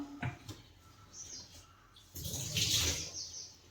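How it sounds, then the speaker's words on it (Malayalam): Water is poured into a pot of chickpea (kadala) curry, a brief rushing splash near the end after a few quiet kitchen clinks. "ഇനി നമുക്ക് അതിലേക്ക് കുറച്ച് വെള്ളം ഒഴിക്കാം."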